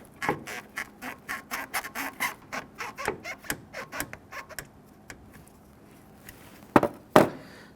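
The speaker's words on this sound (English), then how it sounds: "Using a pair of pliers, let's go ahead and pinch this here and see if we can slide that clamp back." Pliers pinch a coolant hose clamp and slide it back on a 2011-2023 Dodge Charger 3.6L V6 coolant reservoir, giving a run of close, regular scraping and clicking strokes, then a pause and two sharper metallic snaps near the end.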